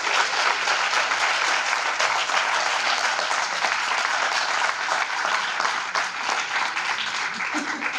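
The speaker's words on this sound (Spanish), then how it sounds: "un fuerte aplauso de nuevo" Loud, sustained audience applause at an alumni reunion event in Agua Caliente, a dense wash of many hands clapping continuously with faint voices mixed in.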